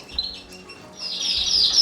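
Young cage birds chirp in a home bird room, a few short bright tweets early on, then a denser, louder run of high chirping toward the end, with some low handling bumps underneath.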